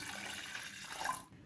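Water poured from a tap or jug into a cooking pot holding one cup of grated beetroot, a steady splashing stream running about a second and a half before cutting off.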